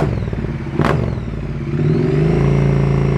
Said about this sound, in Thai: เดี๋ยวเราฟังเสียงท่อกัน โอ้เสียงท่อใช้ได้นะครับ